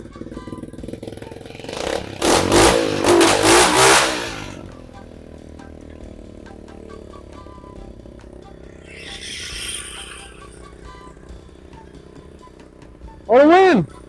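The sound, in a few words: restored mini bike engine running and revving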